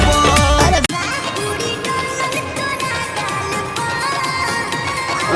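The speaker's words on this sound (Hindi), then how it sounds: "आप लोग पहले एक बार इस गाने के म्यूजिक को सुन लीजिए।" Dense, full-band music from a Bhojpuri song plays loud and continuous, with a sharp break just under a second in before the arrangement resumes.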